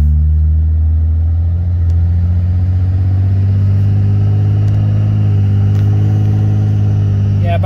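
A 2006 Dodge Ram 3500 pickup's 5.9L inline-six Cummins 24-valve diesel drones loudly up close, a deep, steady rumble that builds as it accelerates.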